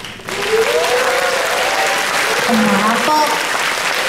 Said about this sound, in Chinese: 希望大家以最最最最最最最热烈嘅掌声俾我嘅老板